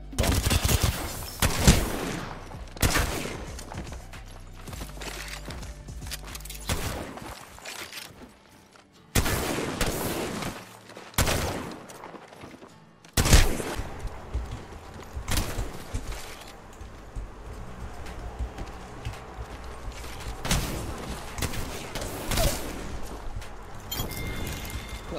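Apex Legends firefight with bomb explosions and bursts of gunfire, including rapid machine-gun volleys and sharp loud blasts, irregular and close, with quieter gaps between the heavier impacts.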